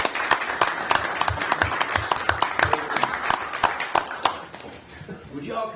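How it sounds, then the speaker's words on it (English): Applause for J.R. Brady, leader of the Scott County Fiscal Court, at a public meeting: a steady burst of many hands clapping, fairly close, fading out after about four seconds as voices talk underneath. "let's give a big hand for our leader, our fearless leader, J.R. Brady"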